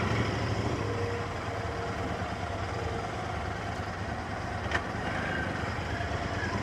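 Jammed city road traffic with trucks and cars idling and creeping, a steady broadband engine rumble throughout with a faint brief clank near the end, no talking.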